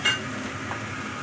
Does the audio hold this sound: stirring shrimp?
yes